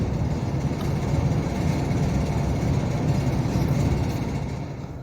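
A 1995 Honda Foreman 400 ATV engine idles steadily through its exhaust, a close, even low putter that fades slightly at the end.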